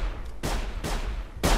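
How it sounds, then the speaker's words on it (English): Robot enemies in the video game Sir, You Are Being Hunted trade gunfire with each other: three sharp, loud shots ring out at roughly even intervals, close by, with a brief rumbling tail after each. "No, they're shooting at each other, what?"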